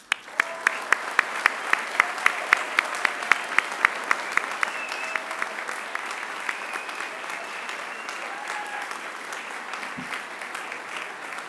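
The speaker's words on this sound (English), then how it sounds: "join me in a hearty round of applause for them." A graduation audience gives a hearty round of applause in a large hall. It opens with sharp, distinct claps, then settles into steady, moderately loud clapping from the crowd.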